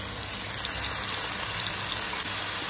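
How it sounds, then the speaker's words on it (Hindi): A little water is poured into frying masala for kabab biryani, giving a steady, close sizzling gush with a continuous hiss that holds evenly throughout. "थोड़ा सा पानी डालूंगी मसाला भुनने के लिए।"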